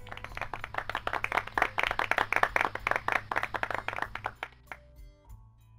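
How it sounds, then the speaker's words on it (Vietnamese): A fifth-grade class claps for a student who answered correctly, a brisk burst of many small hands clapping close by, rhythmic and uneven, stopping abruptly with a few last claps trailing off. "Chúng ta dành cho bạn một tràng pháo tay nào."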